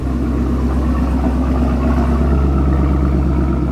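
A Camaro ZL1 1LE with headers idles while warming up, a deep, steady, loud burbling rumble close by with no revving or talk.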